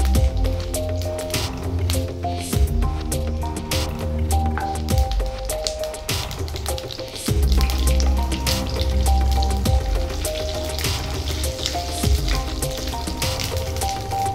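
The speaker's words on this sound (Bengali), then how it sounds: "এখানে একটু কারি পাতা ফোড়ন দিয়ে দিচ্ছি। আর দিচ্ছি কালো সর্ষে।" Curry leaves and black mustard seeds dropped into hot oil for lemon rice tempering, a loud close crackling sizzle with popping bursts and a sudden surge partway through.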